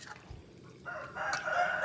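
A rooster crows loudly and fairly close, its drawn-out call rising after a brief quiet start, with no talking.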